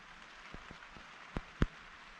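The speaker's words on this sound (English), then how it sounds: "You can hear, once again, it's raining." Rain falls steadily in the Oklahoma woods at Honobia as a soft, constant patter, with a few separate heavier drips or drops striking a surface nearby.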